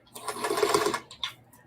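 A sewing machine briefly runs in reverse to back stitch a bag seam, giving a close, short burst of mechanical whirring and needle chatter.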